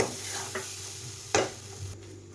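Thick mango barfi mixture being stirred in a pan makes a soft, continuous scraping sizzle, with a sharp spoon scrape partway through, heard close up with no voices.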